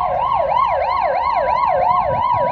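A police car siren wails in a steady rising-and-falling pattern, loud and close, over low road rumble as it escorts a convoy carrying victims of the Taroko Express train accident back to Taitung.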